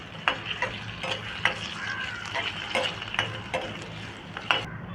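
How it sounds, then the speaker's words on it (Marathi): Potato and mixed vegetables shallow-fry in oil, a gentle background sizzle punctuated by regular clinking stirs of a spoon against the pan. "आता आपण ज्या घेतलेल्या भाज्या आहेत त्या एक एक करून आपण शॅलो फ्राय करून घेत आहोत"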